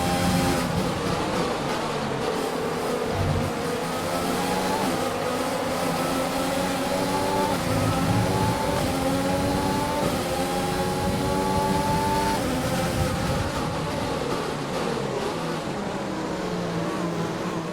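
Formula 1 race car engine from F1 2020, a Jordan in My Team mode, droning steadily and loudly throughout with layered rising and falling harmonic tones as the car accelerates and shifts, no talk.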